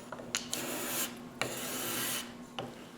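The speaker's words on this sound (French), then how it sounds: "J'enlève la peinture à l'aide du grattoir." A hand scraper rasps paint off wooden boards in several short, close strokes, each a harsh scratchy drag, with no voices.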